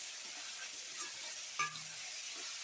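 A spoon stirs a kilo of meat with chopped onion, tomato, chilli and spices in a pan, soft scraping under a steady sizzle, with one sharp clink of utensil against the pan.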